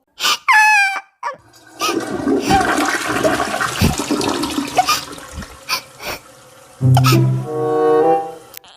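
A toilet flushes in a home bathroom, a loud close rush of water that swells and drains away over several seconds, followed by a voice.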